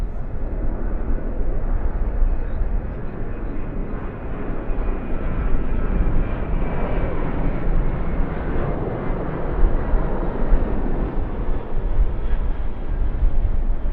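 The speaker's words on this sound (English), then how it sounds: "So this aircraft, it's an Airbus A380 Neo arriving from Queenstown." An Airbus A380 Neo arriving at Sydney Airport at golden hour, its engines producing a steady, loud, broadband roar that holds for the whole stretch without breaking.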